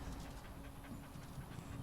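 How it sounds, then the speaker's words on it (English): A dog in Dragon Age Origins panting in quick, steady breaths, close and fairly quiet over a soft background hum. "I love this dog."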